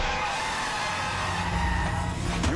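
A car on a road skids as a man jumps in front of it, a loud sustained tire screech over the engine noise, ending with a brief sharper squeal near the end.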